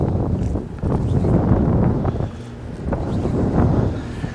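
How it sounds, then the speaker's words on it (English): Strong wind buffets the microphone in a steady low roar on a cold day while fishing at Lake Taneycomo, easing briefly in the middle before gusting back up. "it's cold and windy"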